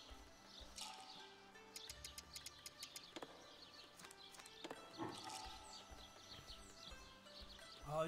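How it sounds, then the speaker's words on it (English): Birds chirp and tweet in an in-game outdoor scene from Shenmue III, scattered short calls over a steady ambient bed, with some hoof-like clopping and a few louder bursts near the end. "Oh, you can hear the birds."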